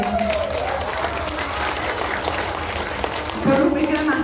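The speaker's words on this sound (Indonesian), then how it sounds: "Tepuk tangan dong untuk Mbak Eni." A crowd at a migrant workers' congress breaks into sustained applause, dense clapping filling the room, with voices rising over it near the end.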